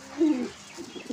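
Napta pigeons in a cage giving a short, soft cooing call, a low throaty burst followed by quieter murmuring coos, faint and close in a quiet setting.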